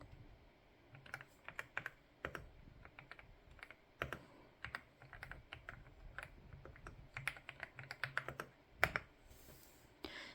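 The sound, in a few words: typing on DAREU EK87 PRO gasket keyboard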